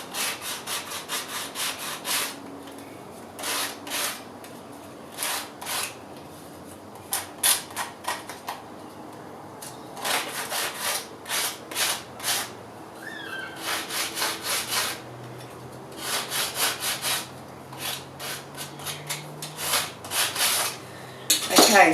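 Repeated short scraping strokes of sanding back the cut edge of a ceramic dish piece, crafted into a garden daffodil, come in irregular bursts with brief pauses, fairly close and moderate in level, no talking.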